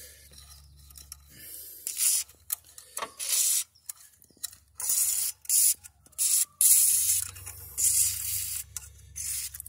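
WD-40 is sprayed in short hissing bursts around a spark plug on an engine. The bursts come close and loud, separated by brief pauses and faint mechanical handling.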